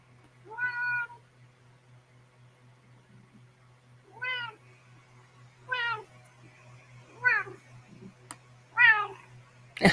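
A domestic cat meows five times at spaced intervals, each call clear and close with rising-falling pitch, over a steady low electrical hum in an otherwise quiet indoor room.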